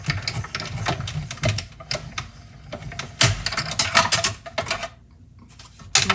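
Paper and a cut sentiment die cranked through a manual die-cutting machine, giving a run of close, loud ratcheting clicks and clatters with a short quiet gap before a final burst.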